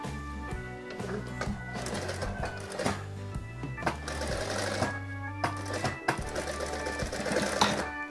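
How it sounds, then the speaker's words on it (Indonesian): A sewing machine stitches fabric for a child's dress, running in steady, fast mechanical bursts with brief pauses and clicks, close and loud throughout. "Saya jahit lagi."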